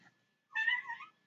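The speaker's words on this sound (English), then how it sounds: "Got to let my cat inside because," A cat meows once from close by, a single drawn-out plaintive call wanting to be let inside, in an otherwise quiet moment.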